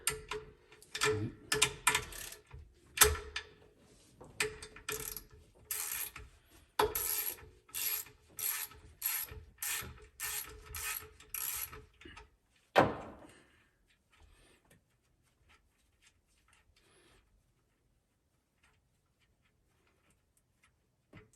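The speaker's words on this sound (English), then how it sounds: "So I'm gonna move this bolt." Ratchet wrench working a bolt loose from the cylinder head of a Mercruiser 5.0 marine engine, a brisk series of close, rhythmic clicking strokes lasting about twelve seconds, then a final clank and near silence.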